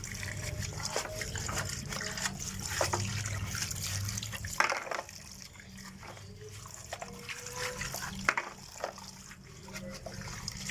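Dishes being washed with water, a faint running tap trickling and splashing with occasional clinks of utensils, quiet and close, with some background murmur.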